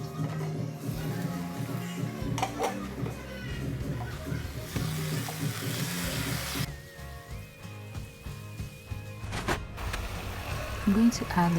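Ghanaian stew of beef and tuna simmering on the fire, a steady sizzling and bubbling bed with occasional stirring clinks, continuous throughout with muffled voices faintly in the background.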